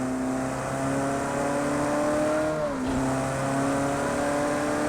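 A Ferrari turbo engine pulling above 4,000 RPM, a steady loud droning note with a brief pitch dip partway through before it climbs again, heard alone.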